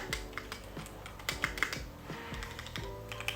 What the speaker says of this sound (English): It is a gorgeous keyboard.